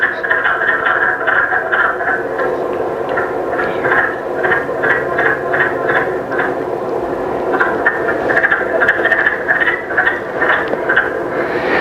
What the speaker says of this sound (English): So you hear these frogs beginning to call.